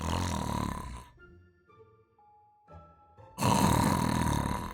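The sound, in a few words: character snoring on a chair in a Harry Potter video game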